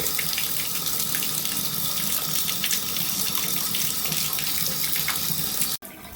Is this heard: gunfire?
no